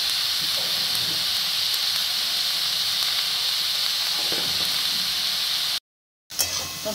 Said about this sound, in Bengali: তো ভালো করে নেড়ে চেড়ে এটা ভেজে নিচ্ছি।